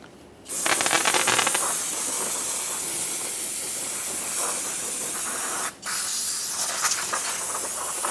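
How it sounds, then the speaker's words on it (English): Lubricant sprayed from an aerosol can onto a brake backing plate of a 1994–1997 Honda Accord: two sustained, close hissing bursts, the first running about five seconds, a short break, then a second steady spray. "We'll add a little bit of lubricant in this area."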